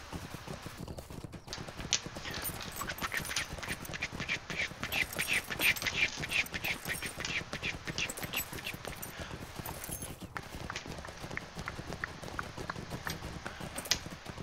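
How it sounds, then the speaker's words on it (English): A horse gallops in Lord of the Rings Online, its rapid hoofbeats drumming steadily for the whole stretch at moderate volume, with a brief lull near the start. "Yee-haw! Giddy up, horsey!"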